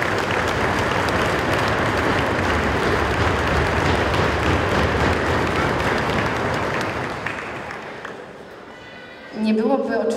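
A large audience at a Christmas carol concert in a former mine gives dense, sustained applause that fills the space for several seconds, then thins out before a voice begins speaking.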